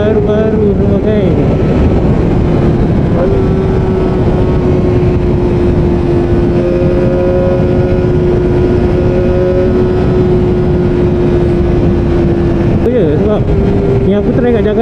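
A Kawasaki Ninja ZX-25R SE motorcycle is ridden up to Genting in Malaysia, its engine holding a loud, steady high-pitched drone with a brief rev change near the end, under heavy wind rush.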